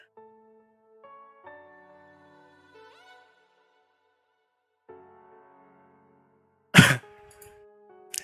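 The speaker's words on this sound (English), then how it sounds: "Sorry about the cough." A single sharp, loud cough bursts out near a microphone, briefly followed by a smaller throat sound, breaking through soft electronic tones and game music.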